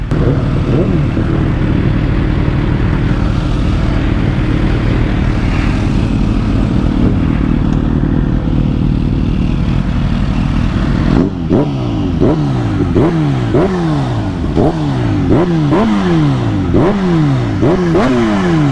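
A supercharged Kawasaki Ninja H2 motorcycle engine runs loudly up close, first as a steady drone, then revved again and again in a quick series of rising and falling sweeps.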